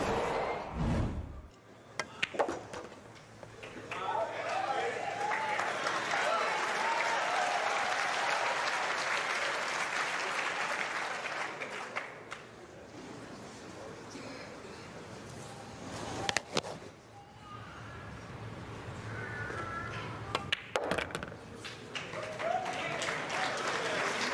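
Sustained crowd applause greets a shot at a billiards match, steady and full for several seconds before thinning, with brief renewed bursts of clapping later on.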